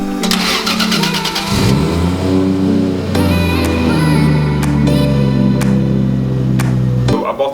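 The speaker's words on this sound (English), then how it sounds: "I drive a 1987 Mitsubishi Starion." A 1987 Mitsubishi Starion fitted with a 1JZ engine cranks and fires up, then revs in rising and falling bursts before settling, loud and close, with a sharp blip near the end.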